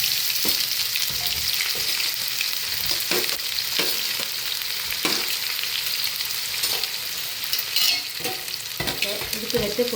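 Onions frying in a pan of oil for murungai ilai varai, a drumstick-leaf stir-fry, make a loud, continuous sizzle with intermittent scrapes and stirring knocks, no talking.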